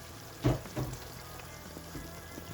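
Water poured into a hot cooking pot of mbongo tchobi, a Cameroonian black-spice stew, gives a brief loud sizzling burst followed by a second smaller hiss, then fades to a low steady simmer.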